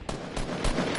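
Rapid automatic gunfire in the Fortnite video game, with a quick burst of loud, closely spaced shots.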